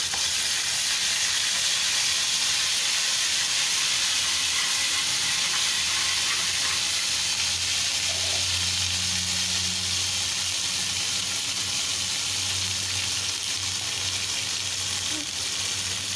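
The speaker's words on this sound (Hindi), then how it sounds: "यहाँ मैंने अदरक लहसुन का पेस्ट डाल दिया है" Ginger garlic paste sizzles in hot oil for kadhi, a loud, continuous close hiss and crackle that holds steady throughout with faint stirring.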